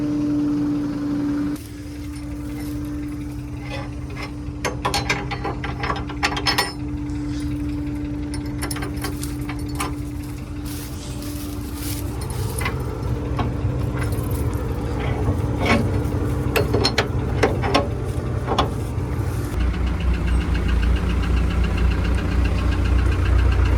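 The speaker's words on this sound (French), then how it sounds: "la batteuse tourne enfin" A John Deere combine harvester runs with a steady knocking, throbbing engine rumble close by, growing louder and denser over time with rattling mechanical clatter and a deepening low drone near the end.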